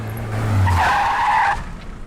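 A car skids with a loud, sustained tire screech lasting over a second, heard up close and alone with no talk over it.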